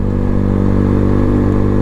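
A Lexmoto Hawk 125 motorcycle runs steadily while being ridden, its small single-cylinder engine giving a loud, close, even drone with a fine pulsing beat.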